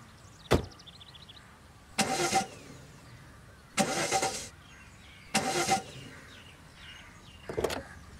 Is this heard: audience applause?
no